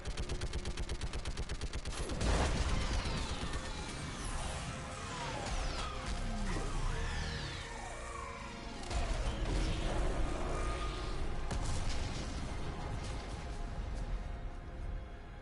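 Orbital strike fire raining on a live Reaper in Mass Effect 3: a long, loud barrage of blasts, crashes and rapid impacts with sweeping, whining tones over a constant roar, surging and easing across the span.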